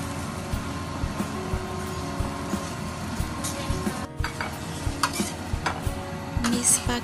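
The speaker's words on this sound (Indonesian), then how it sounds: "masukkan mie spaghetti yang sudah kita rebus tadi" Boiled spaghetti is stirred in a sizzling pan, with steady frying crackle under repeated scraping strokes and occasional clinks of the utensil.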